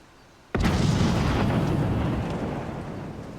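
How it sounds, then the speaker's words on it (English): A single loud fire spell blast in modded Skyrim erupts suddenly after quiet, then a long roaring rumble of flame slowly fades over a few seconds. "Fire spell."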